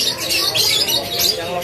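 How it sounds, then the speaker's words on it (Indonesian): Canaries of the local F-series loper type sing in boxed cages at the Pramuka bird market in Indonesia, a busy, continuous chirping and trilling mixed with market chatter and nearby voices. "Ini sama pilihan burung kenari seri loper yang sudah gacorannya."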